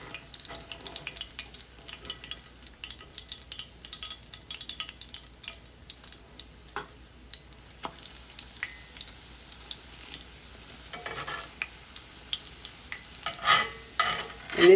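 Hoe cakes frying in a pan on medium heat give a steady, soft sizzle and crackle that runs throughout with no talking, growing a bit louder and busier toward the end.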